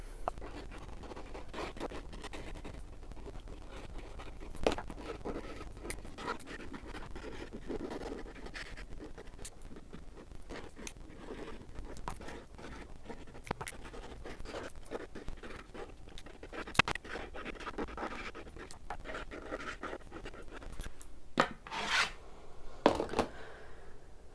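A calligraphy pen scratches ink onto a poplar wood sign in soft, close strokes with small taps and pauses, faint and steady throughout with no talking.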